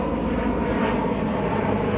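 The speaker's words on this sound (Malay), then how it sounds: "Kapal terbang dari lapangan terbang Pangkalan Cepa, Kota Baru sedang lalu di atas kepala saya tadi" An airplane from Pengkalan Chepa airport in Kota Bharu passes overhead with a loud, steady engine roar that fills the whole moment, and no voices are heard over it.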